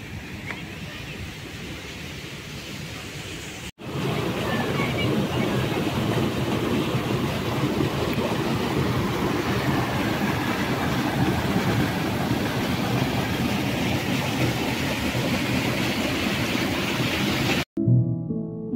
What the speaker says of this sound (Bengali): কি আওয়াজ হচ্ছে তো জলের।